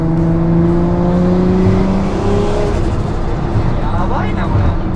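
Turbocharged Toyota Supra JZA80 with a 2JZ engine and TO4Z full turbine kit, about 650 horsepower, accelerating with a loud steady engine drone and rising turbo whistle heard from inside the car, with people talking over it.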